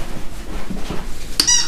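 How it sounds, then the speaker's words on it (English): A German Shepherd puppy playing with a squeaky toy gives a single short, sharp squeak near the end, over low background noise. "she loves playing with squeaky toys."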